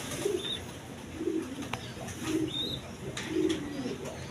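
Caged breeding pigeons give soft, low, repeated coos at roughly one-second intervals, close by and fairly quiet over steady background hiss, with a few faint chirps from other birds.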